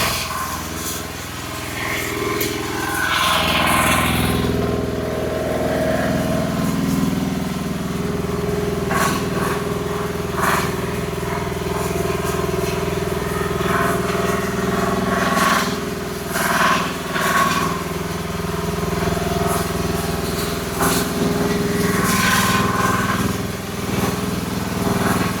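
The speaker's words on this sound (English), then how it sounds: "is your Chinese mini digger as loud as mine?" A Chinese mini excavator's small diesel engine runs loudly and steadily for the whole stretch, its droning note rising and falling slightly, with some clanks over it.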